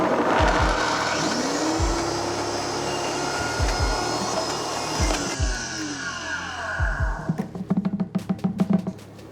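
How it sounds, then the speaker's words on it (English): A kitchen blender whirs loudly while pulverizing a can of black beans, a steady high motor roar with thumping bumps of the contents, ending in a series of rapid pulsing bursts. "we're just going to put the top on our blender and give those a little blend"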